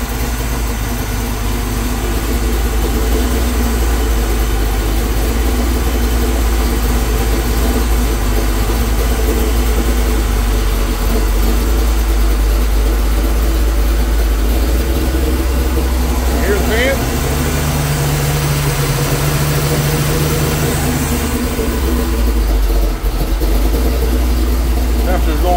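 A truck engine idles loudly and steadily up close after its first start in two months, partway through being put back together, holding an even rumble throughout.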